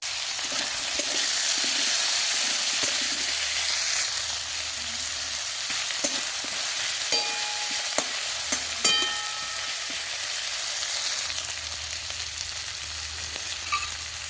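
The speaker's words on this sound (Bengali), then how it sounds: "আলুগুলোকে ছেড়ে দেবো তেলে।" Potatoes dropped into fresh hot oil for a fish curry fry with a steady, close sizzling hiss that holds throughout, joined by occasional light clinks and stirring scrapes, no voices.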